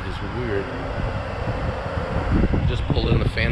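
Steady wind buffeting a microphone at an outdoor Cars and Coffee car meet in Hope Mills, North Carolina, a broad rushing roar with a voice faintly present and rising rumble toward the end.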